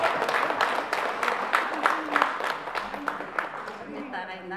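Applause at a Kazakh wedding celebration, a crowd clapping steadily over several seconds and slowly thinning out, with a voice talking over it.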